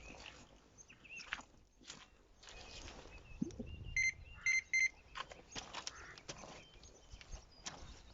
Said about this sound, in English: Turn your alarm off as well, because it will only do your head in.